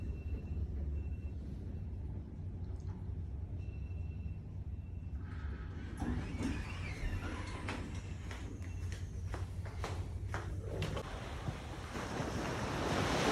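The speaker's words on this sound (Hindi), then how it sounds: "हम साहिल समंदर पे चले गए। आप ये देख सकते हैं, इतना खूबसूरत व्यू, इतना प्यारा, पानी की आवाज़ें" Sea waves wash onto a Karachi beach in a steady, low rumbling surge, with wind buffeting the microphone and the surf swelling louder toward the end.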